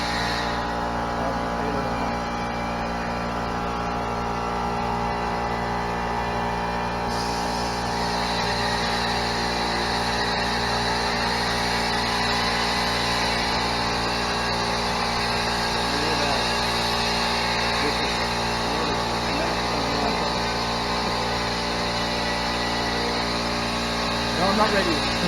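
A compressor runs steadily at a polishing shop, giving a constant droning hum that fills the whole stretch, with people talking over it throughout.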